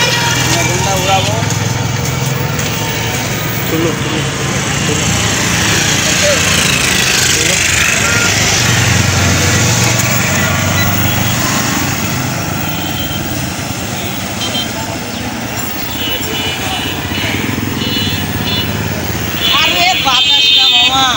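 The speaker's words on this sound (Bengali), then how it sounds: "ড্রোনটা উড়াবো।" A drone flying over a bridge gives a steady, droning motor buzz that runs throughout, mixed with wind noise and people talking nearby.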